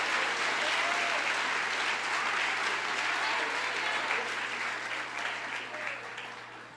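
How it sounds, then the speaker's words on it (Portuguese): A church congregation breaks into sustained, dense applause that fills the room, gradually easing toward the end, with a voice speaking faintly underneath. "Agora você pode dar uma salva de palmas."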